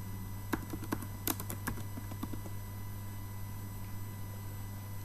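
Keys tapped on a computer keyboard while entering an account number in MYOB Premier accounting software, a quick cluster of sharp clicks over a steady low hum, then fading to sparse taps.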